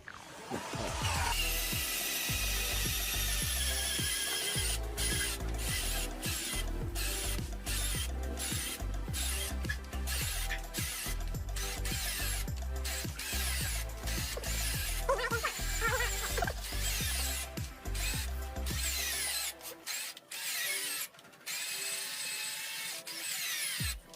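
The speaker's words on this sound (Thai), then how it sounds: "โฮรี่ก็ปล้ำอยู่นานครับ ทั้งถอยเข้าถอยออกสรุปเจาะไม่ทะลุสักที" A Hori cordless drill struggles to bore into a piece of wood, the motor whining loudly and continuously with repeated reversing and stuttering bursts, close up, before cutting off near the end.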